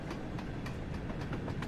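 Freight train of British Railways ISO shipping containers in Train Sim World 2, rolling steadily with a continuous low rumble and regular rail-joint clicks, near and alone.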